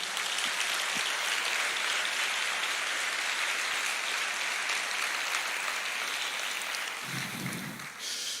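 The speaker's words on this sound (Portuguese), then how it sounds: "Você pode aplaudir o Senhor?" A church congregation applauds during a sermon, a dense, steady wash of clapping that carries on throughout with little change in level before easing slightly near the end.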